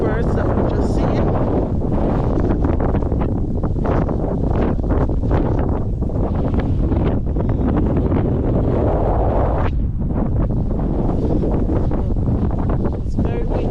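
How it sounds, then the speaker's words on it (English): Strong wind buffets the microphone on an open walk across Wallasea Island, a loud continuous roar with gusty surges throughout and a brief lull near the end, as someone talks over it. "It's very windy."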